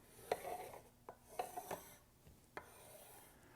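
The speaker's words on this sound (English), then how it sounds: "When I have the boards arranged the way I want them, I like to mark them with what's called a cabinet maker's triangle." A pencil marks a cabinet maker's triangle across wood boards arranged for edge gluing, giving several short quiet scratching strokes with pauses in a quiet room.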